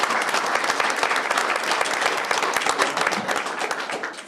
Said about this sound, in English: let's still give them a round of applause